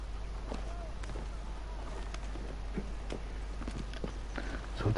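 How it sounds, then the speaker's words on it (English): A horse in the video game Assassin's Creed Origins clip-clops along with a steady rhythm of hoof strikes, moderately close, over a low background hum. "The horse almost killed me. Almost trampled all over me."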